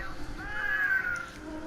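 A palico cat companion in the video game Monster Hunter: World lets out a single drawn-out meow that rises and falls, clear and close over quiet game ambience.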